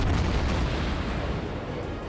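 A Baltimore cruiser's main battery salvo in World of Warships produces a loud, dense rumble of booming gunfire that fades slightly over two seconds.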